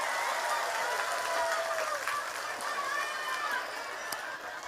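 Audience applause at an Eid al-Fitr religious gathering, a steady dense patter sustained throughout with a faint voice or whistle-like tones drifting over it, moderately distant.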